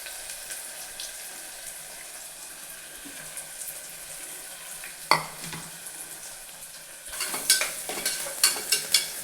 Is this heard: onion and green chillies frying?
yes